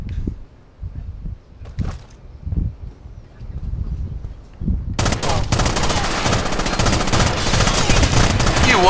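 Video game gunfire: scattered single shots give way to a dense, loud burst of continuous automatic fire in the second half.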